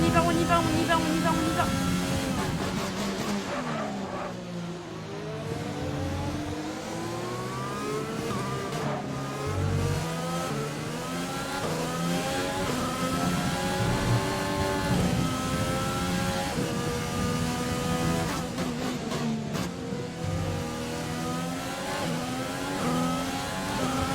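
Formula 1 car in the F1 2020 racing game with the overtake button engaged, its loud high-pitched engine climbing and dropping through gear changes, revving continuously at close range.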